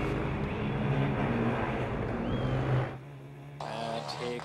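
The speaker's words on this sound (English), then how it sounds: "So lovely quiet engine." Formula Student race car engine during an endurance event at a race track, a steady droning engine note that runs continuously, drops away briefly near the end, then returns more faintly.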